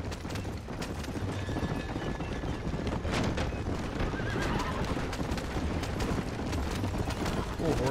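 Horses in the Western video game Red Dead Redemption, near the gates of El Presidio: steady clip-clop of hooves and whinnying horses, with wind noise throughout and a voice briefly under the sound.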